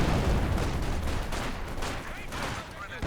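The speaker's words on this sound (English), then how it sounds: "This barrage coming in." An artillery barrage in Company of Heroes 2 rumbles through a dense stretch of booming impacts and crackling gunfire, loud and continuous, with faint talk underneath.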